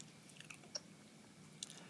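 Close, faint wet chewing with the mouth open, soft smacking clicks scattered over a couple of seconds in a quiet room.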